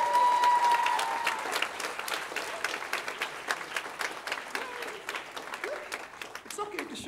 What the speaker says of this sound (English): I think they deserve a hand clap, huh?